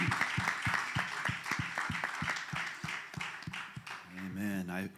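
Church congregation clapping in a steady, rhythmic beat of sharp claps, with a voice speaking over it near the end.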